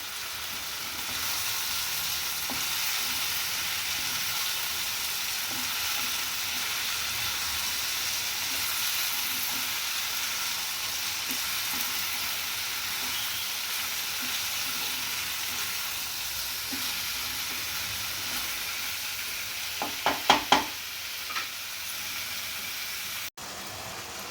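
Paneer and mushrooms sizzle steadily in a pan for chili paneer, a constant close frying hiss, with a brief cluster of sharp utensil clacks from stirring near the end.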